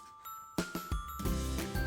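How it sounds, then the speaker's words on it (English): A doorbell rings on a Halloween trick-or-treat visit, a few bright chime tones sounding one after another and ringing on over a short stretch. "Pete rings the doorbell."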